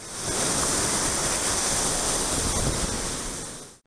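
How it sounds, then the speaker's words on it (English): Waves wash onto a sand beach at Neys Provincial Park, Ontario, a loud, continuous rushing surf that holds steady, then cuts off abruptly at the end. "Waves are constantly changing the shape of the beach."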